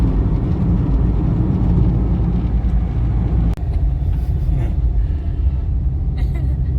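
From inside a car crawling through heavy morning city traffic, a steady low engine and road rumble fills the cabin, with a sharp brief thump about halfway through.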